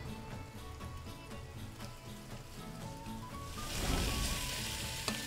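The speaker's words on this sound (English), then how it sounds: "You want to hear that sizzle." Meat browning over medium-high heat in a pan gives a quiet, continuous sizzle that grows louder and hissier toward the end, with a faint clink near the close.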